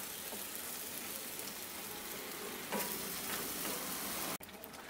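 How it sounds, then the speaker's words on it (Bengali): Masala for butter paneer masala stirred as it fries in a pan, a steady loud sizzle throughout with scraping stir strokes, cut off briefly near the end before resuming. "এখন 3-4 মিনিট এই মশলাটাকে একটু নাড়তে থাকবো।"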